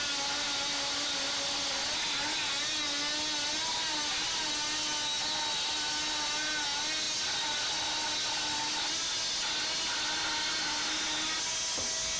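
A corded Dremel Multi Max MM50 oscillating tool cutting under added pressure gives a steady, loud, buzzing whine with a shifting pitch that runs without pause for the full length, close to the listener and with no talk.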